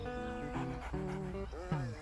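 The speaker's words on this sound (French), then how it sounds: "Je vous présente notre nouveau chien de garde" A dog panting with quick breaths and small whimpers, close up, under a soft backdrop of human voices and harmonic tones.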